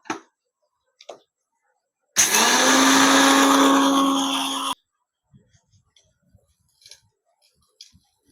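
A kitchen mixer grinder runs for about two and a half seconds grinding sago and rice for appam batter, a loud whirring burst that stops abruptly, followed by a few faint clicks and taps.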